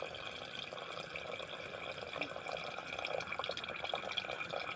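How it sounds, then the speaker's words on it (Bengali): Water poured into a pot of rice for biryani in a home kitchen, a steady splashing, trickling pour running continuously at close range with no talk. "জল দিয়ে দেব।"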